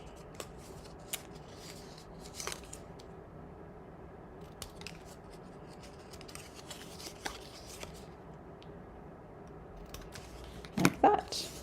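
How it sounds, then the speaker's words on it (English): Scissors snipping through craft pieces for baby shower favors, a series of soft, close cuts scattered over quiet room tone, with a louder cluster of snips near the end. "we're gonna come along here and just cut all of these"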